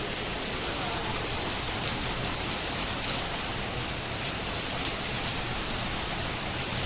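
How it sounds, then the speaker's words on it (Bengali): Heavy rain mixed with hail pours down in a steady, dense roar with a scattered patter of impacts, continuous and unbroken throughout, with no voices. "ভালোই বৃষ্টি লেগেছে, এবারও এখান থেকে জল আসছে আবার।"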